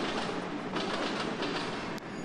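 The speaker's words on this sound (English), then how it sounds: "so here's another train" A train rumbles steadily past along a railway, loud and close throughout, with broad continuous noise and faint rhythmic clatter of wheels on rails.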